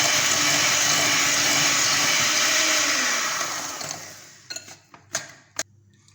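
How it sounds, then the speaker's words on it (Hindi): An electric mixer on slow speed beats butter and sugar in a steady, loud whir for about four seconds, then winds down and stops, leaving a few sharp clicks and knocks. "अब ये बटर और शुगर को अच्छे से बीट करेंगे। सबसे पहले स्लो स्पीड पे रखेंगे।"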